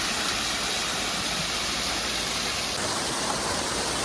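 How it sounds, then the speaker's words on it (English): Several waterfalls flowing together in one spot at a gorge, a constant loud broadband rush of falling water, close and unbroken, with no voices. "There's a bunch of waterfalls over here."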